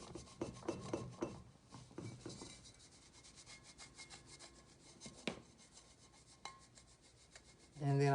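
Sticky tag residue being rubbed off a fabric tumbler cup, heard as soft scraping strokes: busier and louder at first, then a faint, slow rasp that continues, with a brief loud burst at the very end.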